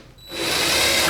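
Power drill spinning up and whirring steadily while driving screws during 1965 Corvair windshield installation, starting after a brief quiet moment, close and loud.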